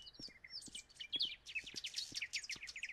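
Birds chirp busily in a daytime scene of a Roblox FNAF game, a dense run of quick high tweets with faint low clicks beneath, fairly quiet and with no talking.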